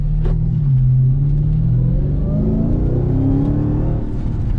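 A Dodge Charger SRT Hellcat engine revs steadily with a rising whine as it accelerates, loud and close, with a continuous rumbling underneath.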